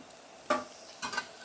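A salmon burger patty flipped in a hot pan gives two short bursts of sizzle and scrape, close and moderately quiet, with no talking.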